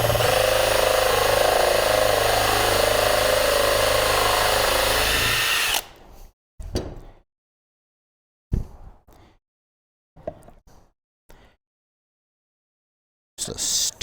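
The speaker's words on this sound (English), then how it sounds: "It's even more satisfying when you have a drill press." A drill press bores into wood in a woodworking shop: a loud, steady motor whine runs for about six seconds, then cuts out, followed by several short, separated bursts of drilling with quiet gaps between them.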